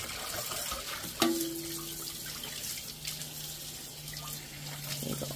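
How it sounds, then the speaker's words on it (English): Tap water runs steadily while dishes and sponges are rinsed at a sink, a continuous close splashing with a sharp knock and a faint tonal hum partway through. "let me finish rinsing these off."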